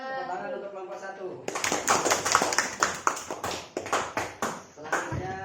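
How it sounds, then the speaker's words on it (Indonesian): A class claps for a student group after its presentation, sharp irregular claps in a short burst following talk, with voices continuing over the clapping. "Tepuk tangan untuk kelompok 1."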